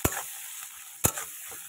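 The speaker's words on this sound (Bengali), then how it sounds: "এটাকে একটু ভালো করে একটু ভাজা ভাজা করে নেব" Taro leaves frying with prawns in a hot pan: a faint, steady sizzle broken by two sharp stirring clanks about a second apart, plus lighter scrapes, with nobody speaking.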